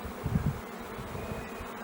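Honeybees from a hive colony with a top entrance drone in a low, steady buzz close by, with a few louder swells early on and no talk.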